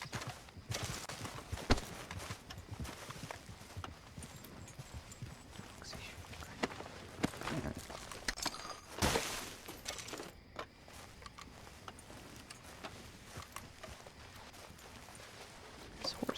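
Horse hooves clopping at a walk in Red Dead Redemption 2, a light irregular patter running through the whole stretch under game sounds and intermittent talk.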